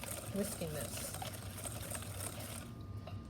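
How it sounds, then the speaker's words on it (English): A whisk beats rapidly through a hot mixture being tempered for craquelin, giving a dense, fast, continuous swishing close by, with muffled talk underneath until it thins out near the end. "since I only have one hand, I will start whisking this"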